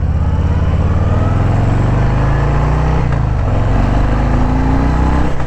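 Harley-Davidson Fat Boy cruiser in River Rock Gray and Vivid Black, ridden at slow speed: a steady low engine rumble and drone held throughout, close and loud, with no talk.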